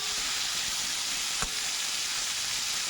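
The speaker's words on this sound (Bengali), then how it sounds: "আলুটা আমি আলাদা ভাজা করে নেবো" Potatoes frying in hot oil for a prawn and cabbage dish, a continuous close bright sizzle with one brief pop, alone without talk.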